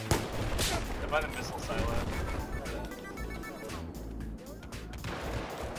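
Battlefield 4 gunfire crackles in bursts and scattered shots under the chatter of a player talking, with some heavier distant blasts mixed in at moderate loudness.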